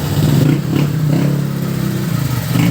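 A Honda Click 150i scooter engine runs steadily at close range, a loud, continuous idle with a slight clatter and small rises in revs, and no voices over it.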